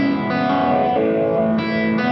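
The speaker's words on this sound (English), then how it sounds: "Put his Fender Rhodes through that pretty classic phaser sound." A Fender Rhodes electric piano plays through an MXR Phase 90 phaser, giving sustained chords a sweeping, swirling tone. The sound is loud and continuous throughout, with no voice over it.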